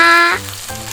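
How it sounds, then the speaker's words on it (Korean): Toy food play with a squishy fried-chicken piece: a brief fizzy, sizzling hiss like chicken frying in oil, loud at first and then fading into a softer background hiss, with no talk over it. "맛있게 튀겨져라"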